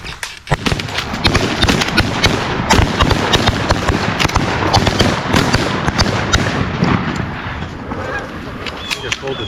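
A volley of shotgun blasts at ducks over decoys during a waterfowl hunt, rapid overlapping shots booming densely and loudly for several seconds, with geese or ducks honking and hunters' voices mixed in.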